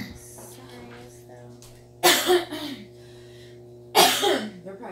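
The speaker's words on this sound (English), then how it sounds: "They're probably sick and tired of hearing me cough." Two sharp, loud coughs from a person with indoor allergies, spaced about two seconds apart, close to the mic over a steady low electrical hum with faint voices between them.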